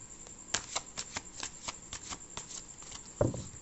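Tarot cards shuffled by hand in a quick run of crisp riffling flutters, close and fairly quiet, ending with a sharper burst of card slaps.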